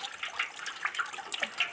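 Water running and splashing in a village kitchen while raw chicken pieces are rinsed, a soft, continuous trickle with small irregular splashes, fairly quiet and with no talking.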